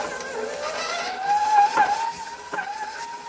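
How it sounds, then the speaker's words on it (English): An electric mixer running on high while creaming room-temperature butter and sugar for cookie dough, a close, whining motor hum whose pitch wavers and rises briefly as the beaters work through the mixture. "I'm going to place this mixer on high, maybe a little loud"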